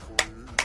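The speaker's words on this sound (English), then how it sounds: "If you're happy and you know it, clap your hands." Two crisp hand claps, close and sharp, spaced about 0.4 seconds apart over a faint background.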